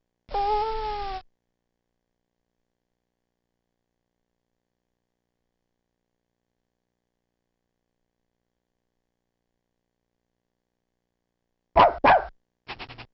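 A synthesized dog from the After Dark 3.0 screensaver gives one drawn-out tonal yelp, then after a long silence two quick barks followed by a shorter one, all crisp and digital.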